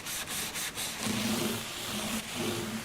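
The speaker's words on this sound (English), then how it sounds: "Now we're going to do a little rub down, rub a dub, getting excess oil off the guitar, and really rub that into it" Cloth rubbing oil into an acoustic guitar's wooden body: continuous close, breathy friction strokes in a steady back-and-forth rhythm.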